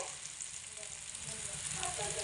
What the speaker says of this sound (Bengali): দশ বারোটা কিশমিশ রেখেছি সেগুলোও দিয়ে দিচ্ছি দিয়ে হালকা একটু নেড়ে চেড়ে নেব